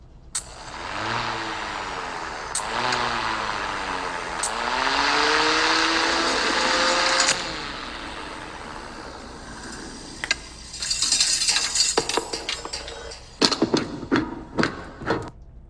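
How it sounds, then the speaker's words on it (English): A vehicle's exhaust muffler drones with rising and falling engine tones, then gives way to a run of sharp metallic clanks and clatter, with no voices. "So that's obviously a muffler."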